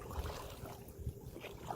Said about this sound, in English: We'll canoe over towards the bank this way.